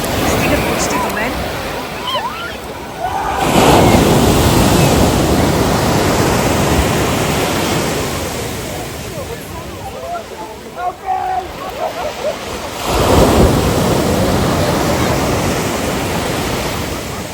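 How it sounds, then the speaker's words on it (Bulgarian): Big ocean waves crash and roll in a broad roar of surf at a beach in southwestern Phuket, swelling loudly twice, with a person talking over the churning water. "Напоследък започнаха да изсядат много големи вълни. Стигат почти до мен."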